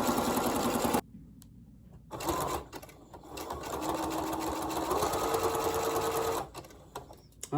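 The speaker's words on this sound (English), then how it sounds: "we'll keep sewing until I almost get to the halfway point." A sewing machine stitches double folded bias tape in a fast, even hum, pausing briefly near the start and then running steadily again before trailing off with light handling noises.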